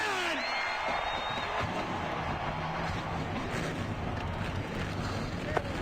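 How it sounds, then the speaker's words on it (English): Race car engines start up in NASCAR Racing 2003 at Darlington before the Southern 300, a dense, roaring drone that fills the whole stretch under faint background voices. "Gentlemen, start your engine!"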